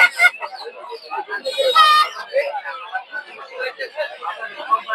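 Chickens and roosters cluck and squawk at a bustling Bangladeshi poultry market selling ducks, chickens and quail, with a crow-like call rising briefly amid constant chatter and bargaining voices.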